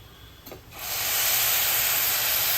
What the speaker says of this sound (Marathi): आता ह्याच्यामध्ये आपल्याला उकळतं पाणी घालायचं आहे